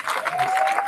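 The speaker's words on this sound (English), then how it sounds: "Please give her a big round of applause and welcome Davinia Cano" Audience applause at the Mrs Gibraltar 2017 pageant welcoming contestant Davinia Cano, a steady, dense burst of clapping from a crowd filling the hall without pause.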